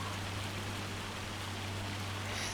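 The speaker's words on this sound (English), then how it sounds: "Still raining. It's been raining all day in game." Rain falls in the farming video game Farming Simulator 25 as a faint, even hiss of drops with a low steady hum underneath, continuous and without speech.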